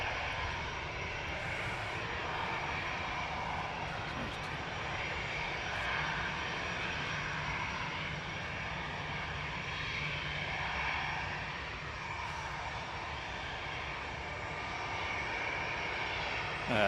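Airliner jet engines rumble and whine steadily while taxiing at Manchester Airport, a continuous, moderately loud roar heard from outdoors without pause.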